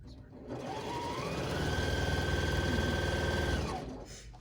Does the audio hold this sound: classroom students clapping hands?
no